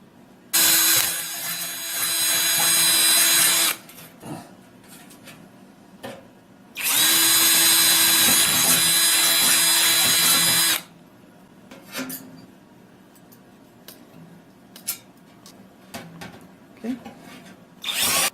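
A power drill with a 7/32 bit whines loudly through two long bursts into wood, each several seconds, with quieter scraping and handling noises between them.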